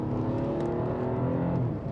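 A BMW 2 Series Gran Coupe engine revs hard under acceleration, a steady loud droning roar with rising pitch that stays close throughout.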